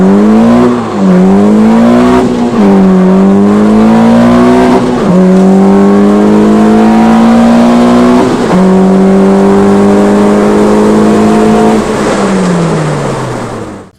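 A K24-swapped Honda Fit revs hard while driving, its engine note climbing and dropping in loud, close surges between gear changes, with no voices.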